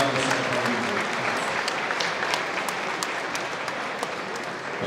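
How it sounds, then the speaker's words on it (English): An audience applauds steadily after an honor is accepted at a ceremony, a dense, sustained clapping that stays even in loudness throughout. "the next round of applause, please"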